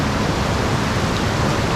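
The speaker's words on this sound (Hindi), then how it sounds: "ये देखो पानी कितना तेज़ आ रहा है, प्रॉब्लम ये वाटरफॉल से ही आ रहा है" Water from the Saklikent waterfall falls hard and close, making a dense, loud, unbroken roar that fills the whole moment with no voices.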